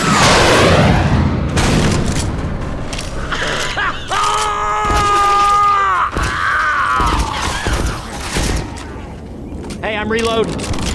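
Left 4 Dead 2 zombie horde attack, loud and chaotic with thuds, booms, growling groans and mechanical clanks, constant throughout with voices talking over the action.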